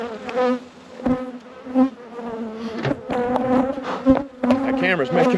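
Bees buzz loudly and close around beehives outdoors, their droning hum rising and falling as individual insects pass near.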